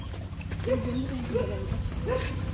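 Three short dog barks come at a steady pace, fairly quiet and somewhat distant, over a low background rumble.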